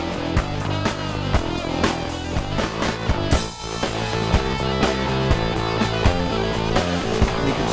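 A full music mix with steady drums runs through a SurgeTide compressor set to a slow surge rate. The loudness swells and dips slightly, with a short drop in the middle, and no one speaks.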